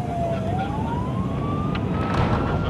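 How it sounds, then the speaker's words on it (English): A police car races through Tijuana at night with its siren blaring, one loud continuous rising wail over heavy road and engine rumble, close and unbroken. "Sirens blaring and 160 kilometers per hour."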